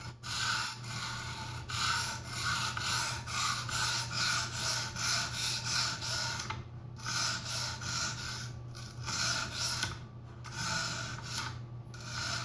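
A folding knife blade is honed on an Edge Pro Apex guided sharpening system, giving a steady, close-up raspy scraping of stone on steel in repeated strokes with brief pauses, no talking.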